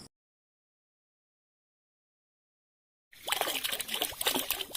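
Clean water is poured to rinse out the inside of a container used for a rice cake called kalamay, a splashy trickle bursting in after long silence and running on steadily.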